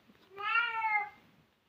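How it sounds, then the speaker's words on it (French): A female cat gives one drawn-out, plaintive meow that sounds like crying, close and clear in an otherwise quiet room. "Elle miaule, on dirait qu'elle pleure, quoi."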